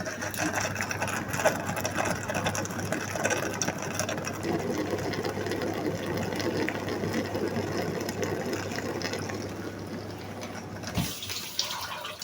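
A repaired Brandt dishwasher's pump motor runs with a steady mechanical whir and rapid ticking hum alongside sloshing water, continuous and close for several seconds before a brief clunk near the end.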